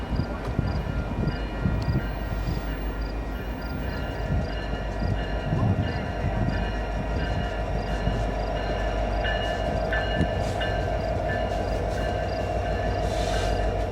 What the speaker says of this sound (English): This train's going slow, prepared to pick up or drop off some cars in the Global 3 yard